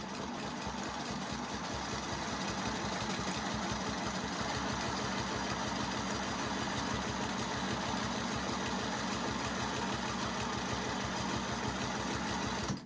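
Quilting machine stitching along a Westalee Curly Q ruler: a steady, rapid mechanical whirring with a fast regular pulse, running continuously and evenly throughout without pauses or voices.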